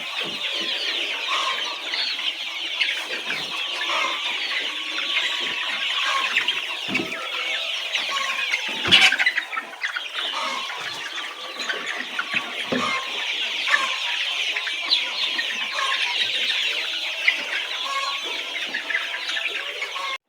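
Laying hens on a layer farm clucking continuously in a dense, busy chorus close by, with scattered louder squawks and an occasional sharp knock, and no talking.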